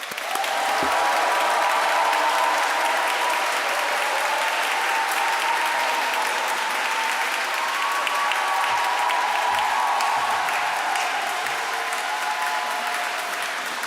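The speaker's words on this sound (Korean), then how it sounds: "큰 박수로 모시겠습니다" A congregation applauds steadily for a Catholic priest being welcomed at a 50th-anniversary Mass of a Catholic youth Bible group; the clapping is dense and sustained, filling the room at an even level throughout.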